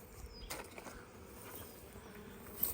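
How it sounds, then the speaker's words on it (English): Busy honeybees hum softly inside an opened hive during an inspection and split, with faint scattered knocks and rustles of handling. "Lots and lots of busy bees in there."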